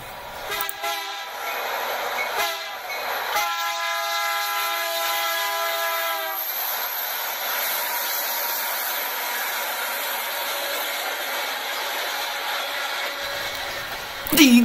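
A train passing on a railroad sounds a loud, steady multi-tone horn for several seconds over rumbling cars, then the horn stops and the rolling wagon noise continues with a hiss until a brief louder burst at the end.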